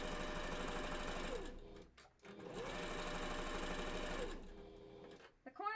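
Sewing machine stitching fabric for a fursuit bandanna, a steady fast mechanical whir running in two long bursts with a brief pause between, close and loud, alone without talk.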